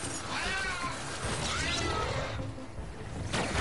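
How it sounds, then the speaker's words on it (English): Cartoon cat meows from a Plants vs Zombies game repeat loudly over a busy backdrop of game effects and whooshes, several calls in a row, close and clear. "Meow. Meow. Meow. That's all I can hear."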